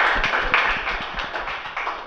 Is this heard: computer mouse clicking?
no